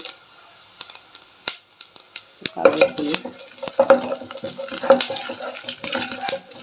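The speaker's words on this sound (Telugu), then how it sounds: "ఇప్పుడు ఆవాలు వేస్తున్నాం తర్వాత జీలకర్ర వేస్తున్నాం" Mustard seeds, cumin and coriander seeds crackling and popping in hot oil for a Rayalaseema okra chutney, scattered sharp pops that grow denser after a quiet start, with stirring clinks mixed in.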